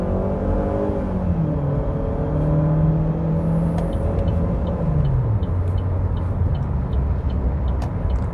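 Chevrolet Cruze LTZ 1.8 automatic hatchback accelerating hard at full throttle, a steady close engine drone whose pitch climbs and then drops as the gearbox shifts, continuous over road rumble.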